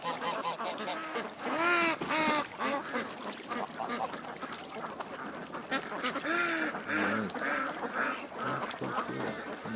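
A group of ducks quacks and honks outdoors, with repeated overlapping calls in loose bursts, fairly close and steady throughout, and no talk.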